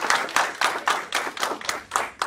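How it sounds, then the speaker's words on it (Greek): Guests at a Christmas civil wedding clap together in a rhythmic unison beat of about eight claps, each one a separate close, loud burst with a short gap between claps. "Χειροκροτήστε τότε"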